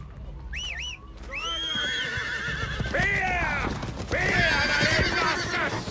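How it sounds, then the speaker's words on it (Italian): Several horses neigh and whinny in high, wavering cries over continuous clip-clopping hooves and commotion, loud and close, with shouting voices mixed in. "I cavalli! I cavalli!"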